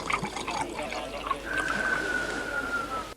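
Orangina fizzy orange drink pouring: a soft continuous trickle of liquid running for about three seconds, fairly quiet, with a thin whistling squeal threading through the latter half.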